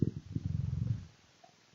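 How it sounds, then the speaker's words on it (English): A cat sitting on a lap purrs in a low, steady rumbling pulse that is fairly loud and close, then fades into quiet near the end. "my cat has decided to sit on laps and purr very loudly"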